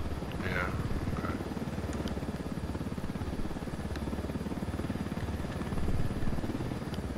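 A big helicopter in Ghost Recon Wildlands gives a steady, loud, close rotor thump that runs through the whole stretch, with a brief voice near the start.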